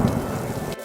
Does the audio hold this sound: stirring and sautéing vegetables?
no